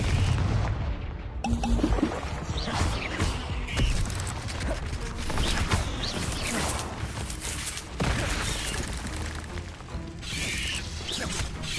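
A Confringo spell explodes in the Hogwarts Legacy video game, producing booming blasts and mechanical clatter in dense, continuous combat audio with repeated sharp impacts.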